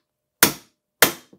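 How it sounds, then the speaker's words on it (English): A hammer gives two sharp metallic taps on tools set against the fork axles of a 2019 FOX Factory Series 36 FLOAT GRIP2 suspension fork, loud and close and about half a second apart, with a faint third touch after. "Okay, then we take our hammer and give it a tap."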